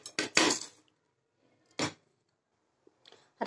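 Uncooked rice being tipped into a pan for pepper rice upma: a few short, bright clattering bursts, close and fairly quiet, separated by silence, with no talking.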